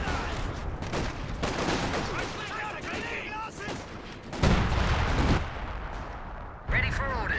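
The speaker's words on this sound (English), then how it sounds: "Officer calling in some base howitzer fire there." Howitzer artillery fire booms across a Company of Heroes 2 battlefield, several heavy blasts with crackling gunfire between them, under steady commentary from a voice.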